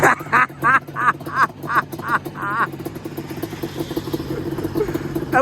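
Yamaha Banshee ATV with a new top end, its two-stroke engine revving in rapid bursts and then settling into a steady, rough running drone close by.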